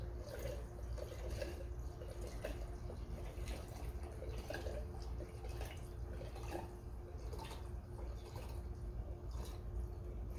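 Diesel fuel mixed with a cold-flow anti-gel additive, AMSOIL or Howes Diesel Treat, being poured into a container, giving a steady soft liquid rush with light dripping throughout, no voices.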